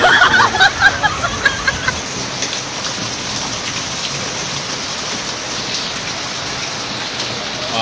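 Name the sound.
heavy rain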